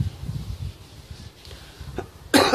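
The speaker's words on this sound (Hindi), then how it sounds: "खांसी आ रही है" A single sharp cough bursts out near the end, following a stretch of quiet low rumbling.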